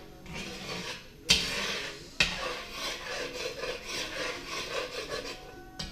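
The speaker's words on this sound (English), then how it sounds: "Make sure you keep stirring your pasta so it doesn't stick to the bottom." Spoon scraping steadily around a pot of crawfish fettuccine pasta, a close, continuous rasping stir marked by two sharp knocks against the pot.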